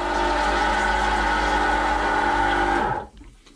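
A faulty electric macerator pump motor on a boat toilet runs with a loud, steady whirring hum for about three seconds, then winds down and cuts off.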